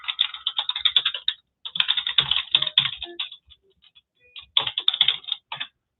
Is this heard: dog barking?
no